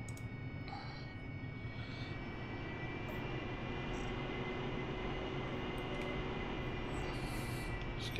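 A jet aircraft takes off in the DCS World flight simulator, its engine holding a steady, even roar with a faint high whine throughout, fairly quiet and unbroken.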